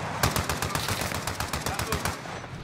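Bursts of rapid automatic gunfire crackle loudly in a Call of Duty Warzone match, a dense rattling stream of shots that continues throughout without a break.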